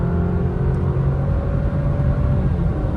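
An Alfa Romeo Stelvio Veloce with a 4-cylinder engine accelerates hard, heard from inside the cabin as a steady, loud low rumble with a rising engine note as the transmission shifts.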